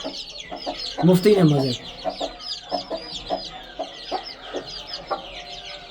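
Hens and young chicks cluck and peep close by in a busy farmyard flock, with a burst of louder clucking partway through and a voice talking briefly over them.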